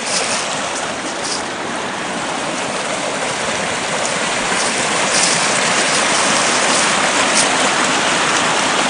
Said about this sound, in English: The creek runs all year long.